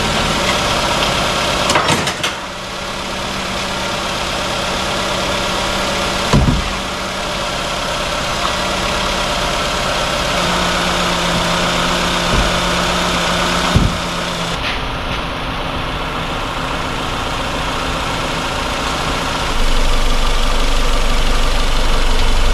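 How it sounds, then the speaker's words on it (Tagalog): Car engine idling steadily at close range while warming up to circulate coolant after servicing, a constant mid-pitched hum with a few clanks and shifts in tone partway through. "papainitin na lang natin yung makina para mag-circulate yung engine coolant"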